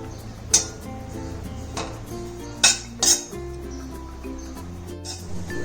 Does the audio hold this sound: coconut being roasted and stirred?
yes